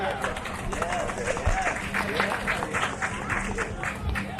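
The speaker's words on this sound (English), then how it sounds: "Please, a round of applause for Agustin Lira and Patricia Wells-Solórzano." An audience at a folk festival claps in a steady, dense wash of applause, with crowd murmur and some voices mixed in throughout.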